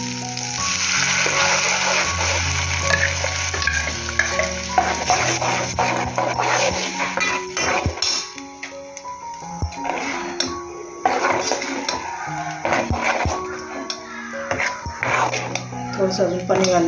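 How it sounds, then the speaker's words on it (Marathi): A metal cooking pot is rinsed with water in a home kitchen, with repeated clanks and scrapes of utensils and splashing, while someone talks throughout. "थोडंसं अजून पाणी घालणार आहे. हे भांडच धुवून घेणार मी."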